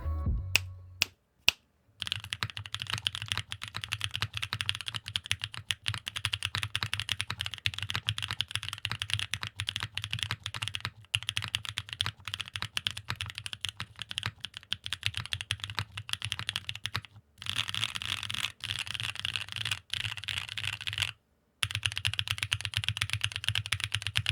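Steady, rapid typing on a mechanical keyboard with stock KNC Keys Black Jacket tactile switches, the clacky keystrokes continuous and close, with a couple of short pauses and no talking.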